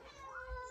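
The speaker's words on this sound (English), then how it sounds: "My cat's in here." A house cat gives a single short, soft meow, faint and close with some room noise around it.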